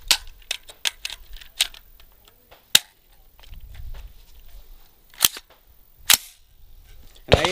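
Rifle shots with steel-case ammunition crack out as sharp, separate reports, about eight of them spaced irregularly with short quiet gaps. The rifle carries a 4x32 tactical scope, and the shots sound moderately distant.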